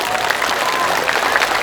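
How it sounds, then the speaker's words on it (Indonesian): Crowd of schoolchildren and attendees applauding at a religious gathering held at an elementary school in Ngawi, Indonesia; a loud, continuous wash of clapping filling the space without pause. "Tepuk tangan."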